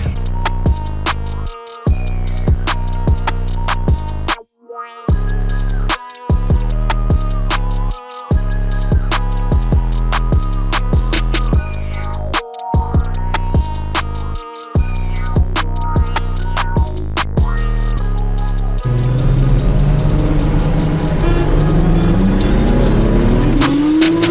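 A BMW E21 on Mickey Thompson semi-slick tyres races a 6.2 Corvette on stock street tyres from 60 to 200 km/h, its engine howling loudly up through the revs with brief breaks at each gear change before giving way to roaring wind and road noise.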